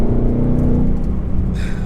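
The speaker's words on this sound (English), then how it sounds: "Nothing really beats the sound of a V8." Ford Mustang 5-liter V8 engine revving, a deep steady growl held loud and close across the whole clip with no talking over it.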